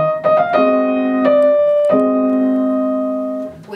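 Piano notes sound clearly up close, a quick trill alternating tones from Chopin's Minute Waltz, followed by a sustained ringing chord that slowly fades.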